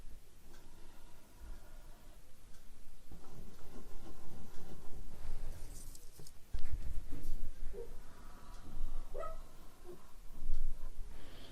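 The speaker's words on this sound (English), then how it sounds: "They're making a bunch of noise out on the road, so my dog is going to bark at him now." A dog barks and whimpers at noise from vehicles or people out on the road, a few loud bursts standing out from steady background noise, with no speech.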